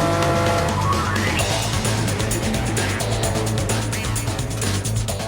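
An Aston Martin DBRS9 GT3 race car brakes on a slippery wet track, its engine roaring loud and continuous with tyre noise and rising, falling engine tones and no gaps.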